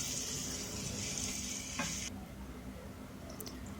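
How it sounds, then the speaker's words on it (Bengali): Dried ghonia fish pieces and boiled potato chunks fry in oil, giving a soft, steady sizzle that drops quieter partway through, with a couple of faint clicks and a light scrape near the end. "সব উপকরণগুলো আমি এখন ভালোভাবে ভেজে নেব।"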